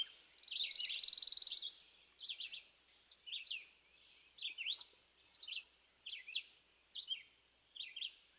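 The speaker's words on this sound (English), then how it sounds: "Many pine warblers sing a less musical trill." A pine warbler sings a soft, lazy trill: one sustained buzzy run followed by a series of short, evenly spaced chirping phrases, clear and alone against silence.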